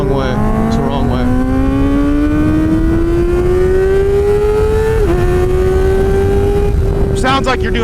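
A Kawasaki ZX-4RR motorcycle with an aftermarket exhaust rides past at full throttle, its engine note climbing steadily with a brief dip at a gear shift, very loud and raw with wind noise throughout.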